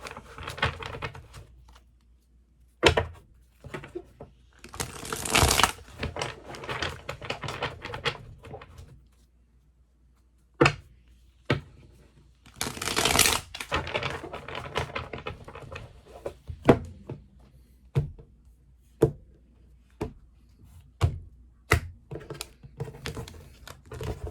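Tarot cards shuffled and tapped in short bursts, crisp riffling and sharp snaps separated by quiet pauses, close and fairly soft.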